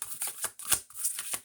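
Tarot cards shuffled by hand near the microphone, several quick riffling bursts in a rapid, uneven rhythm, crisp and close, with no voices.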